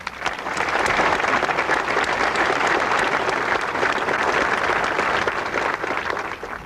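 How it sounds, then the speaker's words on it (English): Sustained audience applause at the signing of the Americans with Disabilities Act, a dense, loud wash of many hands clapping that holds steady for several seconds before easing slightly at the end. "We applaud you and your shining example"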